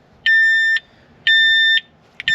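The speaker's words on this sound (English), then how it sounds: "Does it just beep until I start it?" A 2006 Terex Schaeff HR18 mini excavator sounds its warning beeper. Two long, piercing electronic tones of about half a second each are followed by a short double chirp, loud and close against a quiet background.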